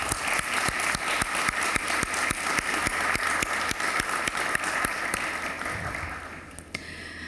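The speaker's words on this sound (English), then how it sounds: "have a clap for all of your support that you did and done for us" Sustained applause from an audience of Afghan refugees in Albania, a dense wash of clapping with a few sharp rhythmic claps standing out, fading slightly toward the end.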